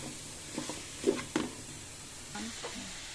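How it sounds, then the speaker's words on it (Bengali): Vegetables and chicken fry in butter for a vegetable noodle soup, a soft steady sizzle broken by a few scraping stirs of the pan, fairly quiet and close, with no talking. "ভেজিটেবলগুলো আগে সুন্দর করে বাটারে চিকেন সহ ভেজে নিচ্ছি।"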